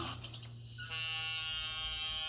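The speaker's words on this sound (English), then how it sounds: "Let's do an engine shutdown." Sound decoder in a Rapido GE 44-Tonner DCC model locomotive in Southern Pacific livery, brand new: a steady electronic engine drone runs throughout, shifting at about one second into a bright, sustained tonal hum from the small speaker.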